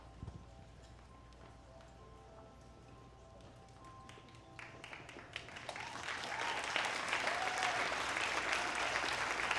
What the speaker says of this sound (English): You guys can clap, it's okay.